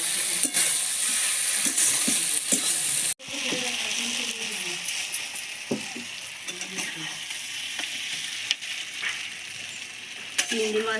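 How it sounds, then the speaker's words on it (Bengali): Kochur loti (taro stolons) cooked with prawns sizzles steadily in a pan while being stirred, with scraping clinks of the spoon and a brief sharp knock partway through, close and continuous throughout. "আমি আর একটু 1 মিনিট নাড়াচাড়া করবো"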